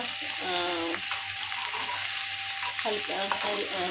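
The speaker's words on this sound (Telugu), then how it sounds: "సో ఇలాగ మొత్తం ఒకసారి కలుపుదాము." Okra pieces sizzle loudly in a pan as they are stirred, with a constant close frying hiss, scraping stirs and a faint voice in the background.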